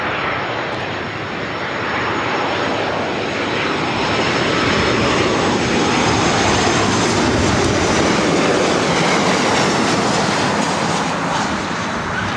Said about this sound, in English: 2051 coming in from Reno, Nevada on a 737-800